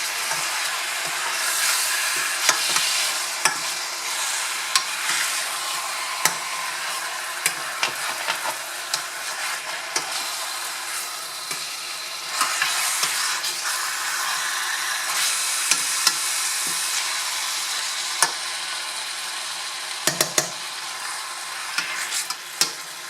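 Meat and sofrito sizzle in a hot pot for a chicken stew while a spoon stirs them, scraping and clicking over a steady hiss that carries on from start to finish.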